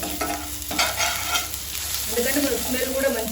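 Ginger crackles and splutters in hot oil in a pan, a close, dense sizzle with sharp pops and scraping stirs, continuous and fairly loud.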